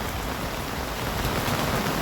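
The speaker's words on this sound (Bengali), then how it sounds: "প্রচুর বৃষ্টি হচ্ছে।" Heavy rain pours steadily on a rainy day, a dense, continuous close hiss of falling drops with no letup and no other sounds.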